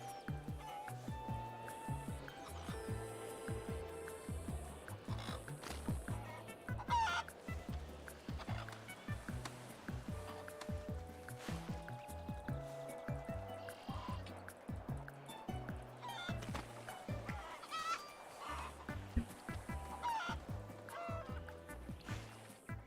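Chickens in the video game GTA V cluck and gobble continuously in a dense, busy flock, steady rhythmic bird calls layered over game ambience at a moderate level.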